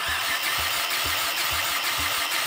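A formerly seized Honda engine cranking over with the starter, a steady rhythmic chugging of about five even compression strokes per second, close and fairly loud with no talk.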